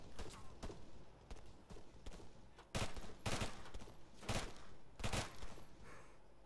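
Bursts of gunfire in the Arma 3 Wasteland game mode, with several sharp volleys and rapid shots cracking over a steady background, fairly loud and sustained with no speech over them.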